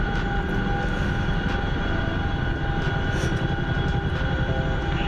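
A Chinook helicopter in a video game drones steadily with a constant, dense engine and rotor hum, loud and unchanging throughout.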